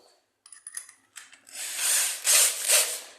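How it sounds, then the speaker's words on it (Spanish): A drill bit is slotted into a cordless drill's chuck and tightened, ahead of drilling ceramic tile. Faint clicks come first, then a burst of loud ratcheting as the chuck is twisted shut in quick turns. "Ahora colocamos la broca en el taladro."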